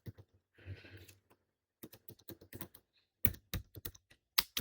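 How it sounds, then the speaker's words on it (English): Computer keyboard keys clatter in close, irregular bursts of clicks with short pauses, including one brief softer rustle-like press. "let me use all the keys available in my keyboard"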